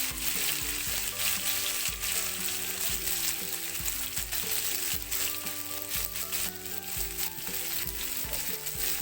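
Green chillies sizzle and fry in a pan of pumpkin seed dish, with a steady crackling hiss and repeated scraping stirs close by, no talking.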